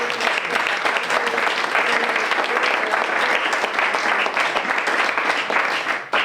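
Audience applause at a live Spanish talk event on the season's final evening: a dense, steady wash of many hands clapping, loud and continuous throughout, easing slightly only at the very end.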